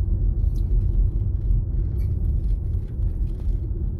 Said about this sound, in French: On va rouler tout doucement.